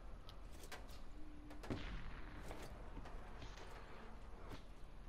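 Distant gunfire in Call of Duty Blackout, a scatter of faint sharp cracks and pops, one louder report near the middle, over a low steady background hum.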